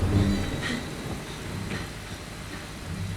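Steady rain in a TV drama scene makes a continuous broad hiss with a few soft splashy bursts, fairly loud and unbroken throughout.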